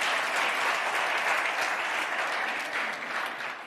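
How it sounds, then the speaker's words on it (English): A church congregation claps for Jesus in a steady, dense burst of applause from many hands, loud and sustained, then easing slightly toward the end. "Clap for Jesus as we go back here and sit."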